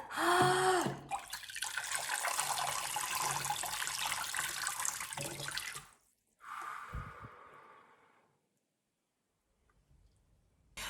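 Water poured over a child's face during a beginner swimming lesson splashes in a loud, continuous rush for several seconds, then a short second pour follows after a pause, ending in quiet.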